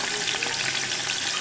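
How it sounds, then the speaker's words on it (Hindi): Mutton frying hard with onion, garlic-ginger paste and green chillies for yukhni pulao, a dense continuous close sizzle with a faint stirring texture, no voices. "और इसको अच्छे से हम भूनेंगे।"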